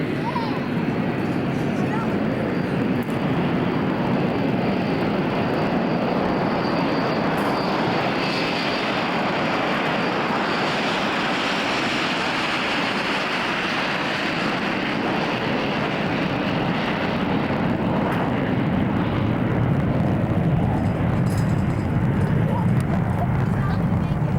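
Propeller airplane flying overhead in the American West, a continuous broad engine drone that swells and fades over about twenty-four seconds, steady and fairly loud.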